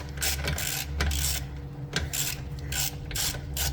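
Ratchet tightening down the one-wire ignition coil on a 1980 Suzuki Snip FS50 moped, a close, continuous rasping and clicking in repeated strokes with no talk.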